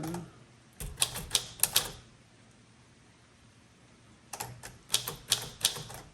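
A 1935 Corona Silent typewriter typing in two short bursts of crisp key clacks separated by a quiet pause, the strikes close and fairly soft.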